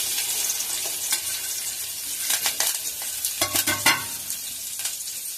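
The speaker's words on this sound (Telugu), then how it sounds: "ఆయిల్ యాడ్ చేసేసుకున్నాక ఒక స్పూన్ జీలకర్ర, పచ్చిమిరపకాయ, ఇంకా ఉల్లిపాయ, కరివేపాకు వేసుకొని ఫ్రై చేసుకోవాలి" Onions, green chillies, cumin seeds and curry leaves sizzling steadily in hot oil, with a spoon stirring and scraping the pan in quick bursts, close and alone.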